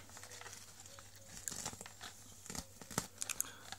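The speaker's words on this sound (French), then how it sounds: "il faut que je déplie un petit peu le masque" A rubbery fabric Spider-Man mask with plastic inside is unfolded, giving soft close crinkling and rustling with a few sharper crackles.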